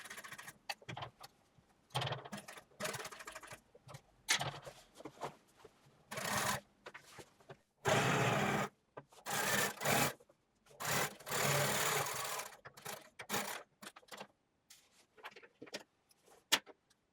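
A sewing machine stitches slowly over thick layers of denim while joining the front and back pieces of jeans. The whirring comes in close, uneven bursts separated by short pauses, with no talking.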